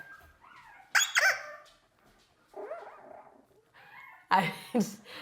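A three-week-old Goldendoodle puppy whimpers in its sleep with soft yelping sounds in short bursts, quieter whines between them, close by and fairly faint.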